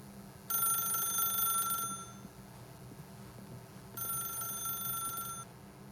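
A telephone rings in The Stanley Parable, two bursts of bright metallic electronic ringing separated by a pause, loud and close over a low ambient hum.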